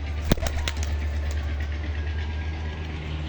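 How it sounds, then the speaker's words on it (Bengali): A released pigeon flaps its wings in a few quick bursts early on, over a steady low engine-like hum that continues throughout. "চলেন ছেড়ে দেখাই পায়রাটা।"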